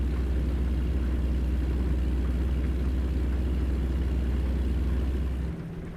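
A truck engine in the driving game American Truck Simulator drones as a steady, loud low rumble with even road noise, easing off slightly near the end.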